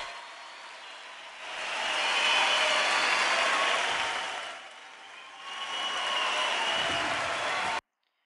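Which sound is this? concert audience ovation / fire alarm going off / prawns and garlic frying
concert audience ovation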